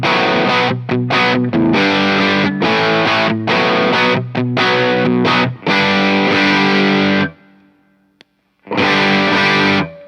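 Overdriven electric guitar through a Visual Sound Open Road pedal, loud chord strums with crunchy distortion in a steady rhythm, a pause of near silence, then strumming resumes.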